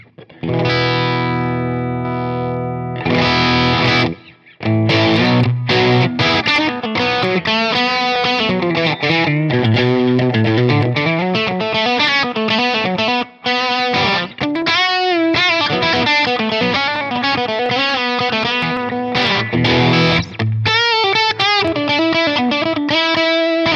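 An electric guitar with a Telecaster-style tone through an overdrive pedal plays dirty rhythm chords and picked notes, loud and continuous, with a couple of brief pauses between phrases.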